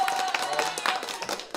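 A few people clap for the final guest on a live wildlife show, brief scattered claps, close and moderately loud, with some voices mixed in.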